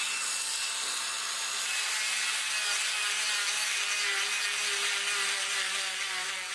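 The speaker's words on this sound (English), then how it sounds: "now to clean it up I put 3 discs on this little Dremel tool" A small Dremel rotary tool fitted with three stacked cutting discs grinds out a slot in a wooden fishing lure body, giving a continuous high abrasive whine with a gently wavering pitch, close and loud, with no talk.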